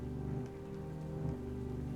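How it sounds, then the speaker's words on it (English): Heavy rain pouring steadily in a dense, unbroken wash of noise, close and continuous with no voices. "The rain is heavier."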